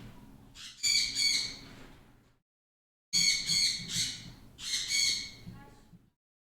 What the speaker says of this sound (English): That baby bird is saying hello